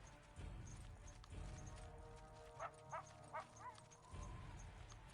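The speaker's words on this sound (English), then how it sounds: "I hear a dog." A dog barks in the fantasy strategy game SpellForce 2: Shadow Wars, four short, faint yaps in quick succession over a low ambient hum.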